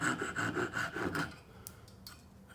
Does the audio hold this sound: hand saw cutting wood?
yes